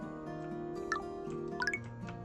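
Soft water drips and liquid plinks from pumping in the ocean settlement builder game HavenDock, a few close droplets over a steady tonal music bed.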